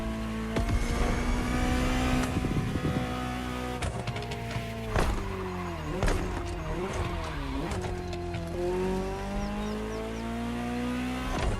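Ferrari 288 GTO engine in the racing game The Crew Motorfest, a steady loud drone with rising and falling revs across shifts, continuous throughout with some speech-like activity mixed in.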